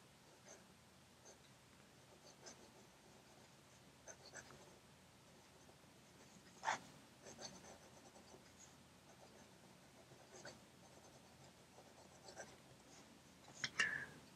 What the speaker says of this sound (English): I can write normally